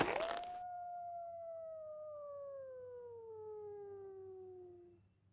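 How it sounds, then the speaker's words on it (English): A wolf howl from the Nancy Drew game The White Wolf of Icicle Creek: after a short burst of noise, a single long, clear howl rises, then slides slowly downward for about four seconds before fading out. "I just heard the White Wolf of Icicle Creek."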